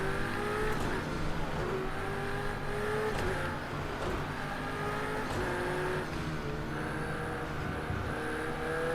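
Ferrari 488 and Aston Martin GT race cars in a racing video game, a steady, loud engine drone with several overlapping motors whining and shifting pitch as cars run together, no talk.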